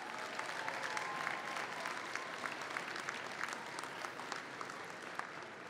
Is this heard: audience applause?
yes